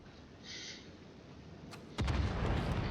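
Battleship guns firing in World of Warships, a faint earlier shot followed by a heavy booming salvo with rumbling tail, distant-sounding under the game's ambient wash, no talking.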